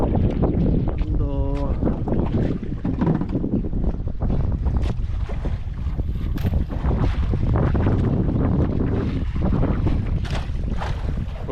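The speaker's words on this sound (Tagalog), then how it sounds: "Hindi gaano malakas yung amihan mga idol. Karamtaman lang" Steady moderate northeast monsoon wind blows across the microphone aboard a small fishing boat at sea, with a continuous low roar and water noise. A brief tonal engine-like warble rises near the start.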